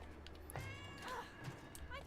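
A cat in the video game Split Fiction gives short meows amid game sounds, with people talking over and around them.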